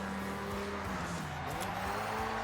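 High-revving rotary engine racing car in the video game Forza Horizon 6, with a buzzing, layered tone, shifting pitch as it accelerates, steady and close.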